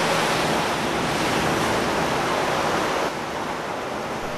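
Heavy storm seas churn around a fishing trawler off Chile, a steady, loud roar of surf and wind filling the air without letup.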